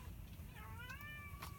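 A pet cat meows a few times in a quiet indoor room, faint and close, with a rising and falling cry and no talking over it.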